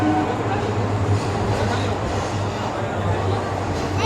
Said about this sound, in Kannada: ಈಗ ಟ್ರೈನ್ ಬಂದಿದೆ.